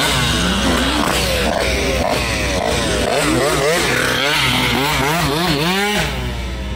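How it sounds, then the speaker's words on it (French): A motorcycle engine revs loudly and close at an automotive gathering, rising and falling in repeated throttle blips over steady crowd noise, with no clear talk. "Dernier bruit de moto de la journée"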